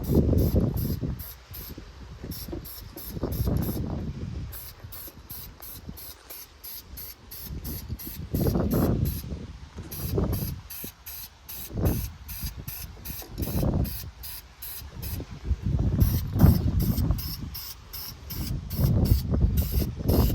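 An aerosol can sprays paint onto a cleaned engine accessory bracket for a 1969 Mercury Cougar XR7 Convertible, in repeated hissing bursts of a few seconds each with short pauses between, close and fairly loud.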